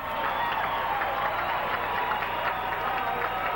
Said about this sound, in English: And you can hear the crowd. Let the crowd react.